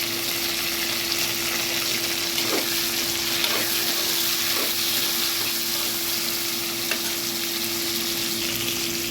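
Onions and tomatoes sauté in a pan for a fish curry, giving a steady, dense sizzle throughout, with a few soft spoon scrapes breaking through now and then.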